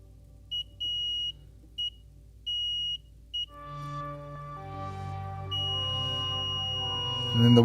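A continuity tester beeps in short repeated high tones while probing pins on a DIY synthesizer filter module circuit board, then a sustained tone rises with layered pitched hum over low background noise.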